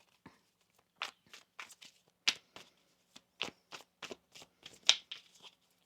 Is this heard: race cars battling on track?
no